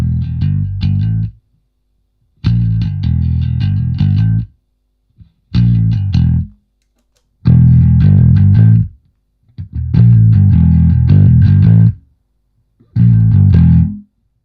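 An electric bass runs through a Blackstar Unity bass amp with its overdrive engaged at a half mix, playing loud gritty phrases in six separate bursts broken by short silences.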